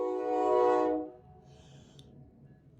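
A passing train sounds its horn once in a loud, sustained blast that cuts off after about a second, followed by the rumble of the rail cars rolling by nearby.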